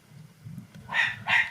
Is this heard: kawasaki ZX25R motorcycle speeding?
no